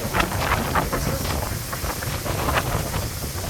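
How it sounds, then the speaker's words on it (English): Gusty wind buffeting outdoors with a steady hiss of rain, continuous broadband noise and occasional louder gusts, no voices. "it is raining. It's quite windy."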